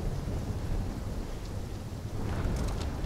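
Thunderstorm with heavy rain and wind in a Call of Duty Black Ops III level set in a dark, storm-hit Singapore: a steady loud wash of rain with low rumbling throughout, no voices.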